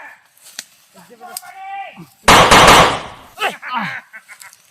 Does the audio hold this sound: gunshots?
yes